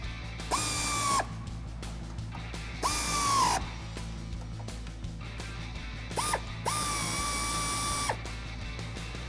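A ratchet with a 10mm socket tightens bolts on a custom molded mud guard of a 2016-2019 Toyota Tacoma, three bursts of rapid clicking, close and loud, with short pauses between.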